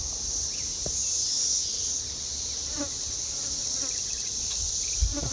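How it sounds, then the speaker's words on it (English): Bees working persimmon tree blossoms in a yard, a steady high insect buzz from many bees at moderate distance with faint bird calls in the background. "Bees are starting to work that."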